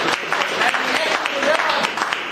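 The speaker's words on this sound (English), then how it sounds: "How about a nice round of applause, ladies and gentlemen?" Audience applause at a magic show during a charity telethon, a short burst of clapping from the crowd with some voices mixed in.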